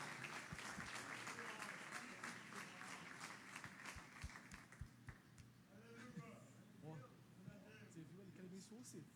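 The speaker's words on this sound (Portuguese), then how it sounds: "aplaudindo ao Senhor em nome de Jesus" A church congregation claps steadily, loud at first and then tapering off, while voices speak and call out over the applause.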